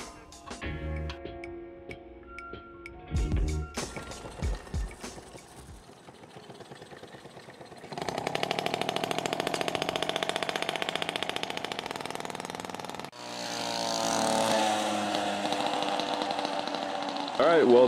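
A Peugeot 103 70cc moped with new cylinder head, decompression valve, CDI and Dellorto carburettor starts with sputtering bursts, then settles into a loud, steady, high-pitched two-stroke drone that rises in revs near the end.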